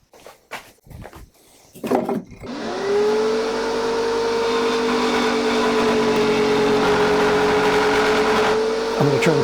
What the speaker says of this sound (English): I have a jigsaw permanently mounted on the underside of the table surface.